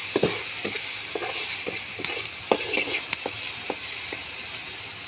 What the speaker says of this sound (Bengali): এখন আমি আগে থেকে থেতো করে রাখা পেঁয়াজ রসুনের মধ্যে দিয়ে দেব।